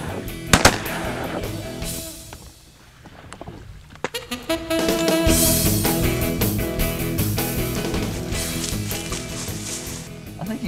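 Shotgun shots ring out during a mallard duck hunt in Alberta: a sharp blast early, then a burst of several rapid loud reports with rolling echoes and steady rumbling noise behind.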